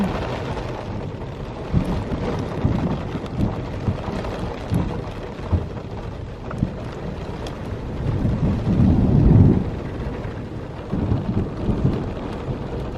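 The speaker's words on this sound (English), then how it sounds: "we just heard a almighty thunderstorm start up" Rain patters steadily while low thunder rumbles roll in and out, swelling to a heavier rumble near the end; no voices.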